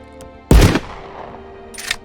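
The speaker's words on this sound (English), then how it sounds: "The guns feel powerful with good quality sounds" A single loud, close gunshot from a weapon in a VR shooter game cracks sharply and rings out with a decaying tail, followed by a fainter mechanical click or rattle near the end.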